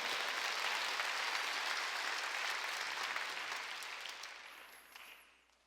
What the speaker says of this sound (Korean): 보고프고 그리운 사람만 박수 주세요